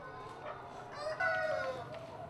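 Chickens cluck and a rooster crows at a poultry farm raising organically farmed birds, the crowing rising clearly mid-way over a busy, moderately distant background of fowl calls.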